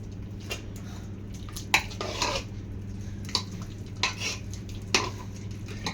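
A spoon scrapes and clinks through spice paste in a pressure cooker, giving irregular close knocks and scrapes over a low, steady background hum.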